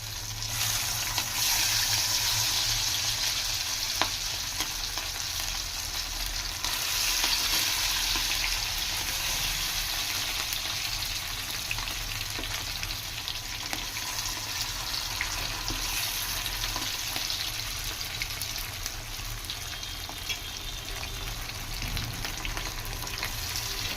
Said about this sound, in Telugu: ఈ మిగిలిన చికెన్ కూడా ఈ విధంగానే ఫ్రై చేసుకుందాం